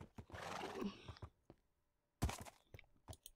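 A donkey in Minecraft brays and snorts in short bursts, close and fairly loud, with hoof-like knocks between the calls and a quiet gap in the middle.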